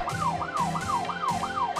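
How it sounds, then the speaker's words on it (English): A police car siren wails in a fast, regular up-and-down cycle, repeating about every quarter second, steady and moderately loud with no talking over it. "Police car."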